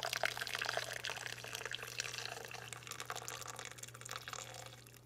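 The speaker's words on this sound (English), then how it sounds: "To your whole chicken, you wanna add your water." Hot water poured from a kettle over a whole chicken in a pot, a steady close splashing pour that runs continuously and tapers off near the end, with a low constant hum beneath.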